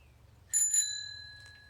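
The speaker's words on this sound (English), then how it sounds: "Ring a bell just 'cause it's fun." A bicycle bell rings clearly, two quick dings close together followed by a fading metallic ring, heard alone over a low background hum.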